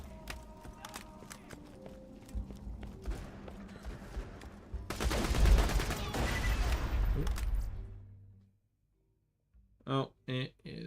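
A turret is shot down in Borderlands 2 with a loud, dense burst of rapid gunfire and mechanical clatter that peaks midway, following quieter scattered shots. A voice talks over parts of it, and the sound cuts to silence before more speech.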